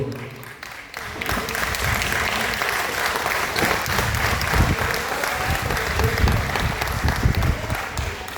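An audience claps after a performance of the Sri Rama Vijaya play at Ravindra Kalakshetra, a dense, sustained round of applause that fills the hall from start to finish.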